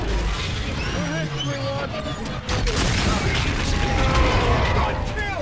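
A sustained roar of strafing-run gunfire and booming impacts from the Call of Duty: Infinite Warfare game rumbles throughout amid battle noise, with voices and radio chatter over it.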